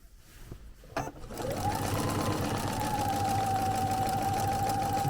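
After a few soft handling noises, a sewing machine starts up and stitches a zigzag in a fast, steady whir that runs loud and close to the end.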